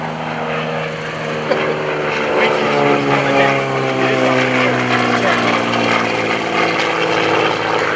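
A T-34 Mentor propeller airplane drones loudly and steadily overhead at an airshow, its engine a close, unbroken hum with a throbbing pitch.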